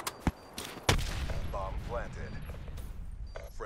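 Gunfire from a weapon in Call of Duty: Black Ops 3 multiplayer: a couple of sharp shots, then a heavier burst, followed by steady game noise with a voice talking over it.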